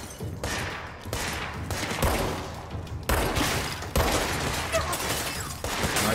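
Gunfire in the video game Control comes as a dense fusillade of rapid, overlapping shots and bursts that crackle loudly and nearly without pause throughout.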